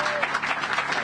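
A crowd applauds the mayor at a city affordable housing announcement, a dense steady wash of clapping through the whole short moment.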